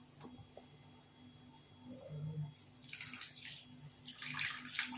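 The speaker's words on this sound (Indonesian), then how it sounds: "Terus pakai air hangat ya." Warm water pours into a dalgona coffee mixture in two short splashing bursts, close and moderately loud, after a quiet moment.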